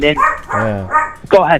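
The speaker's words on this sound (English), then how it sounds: "That's my dog." A dog barks and yips a few times indoors, close and loud, mixed in with someone talking over it.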